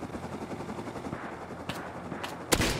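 Gunfire in the survival game Rust, a few sharp shots cracking out near the end over a low rumbling background, with a louder burst closing the moment.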